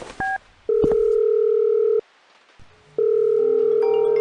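A telephone handset gives two long steady dial-tone beeps separated by a pause, close and loud, with short key tones at the start and no talking.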